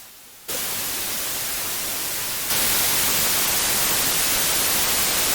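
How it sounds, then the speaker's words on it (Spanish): Steady white noise from a modular synthesizer hisses on after a brief quiet start, then jumps noticeably louder partway through and holds constant, with no other sounds. "vamos a conectar aquí un ruido blanco"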